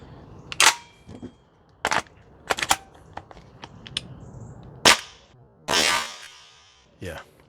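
Toxicant XM5 Sig Spear airsoft gas blowback rifle fired on a range: sharp, loud cracking shots spaced irregularly, with a couple of quick doubles and a longer hissing burst of gas between them.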